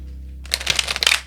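Tarot cards being shuffled by hand, heard close and crisp as a quick burst of riffling flicks that starts suddenly after a brief quiet pause and continues to the end.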